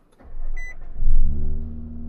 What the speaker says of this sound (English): So I'm gonna start the truck,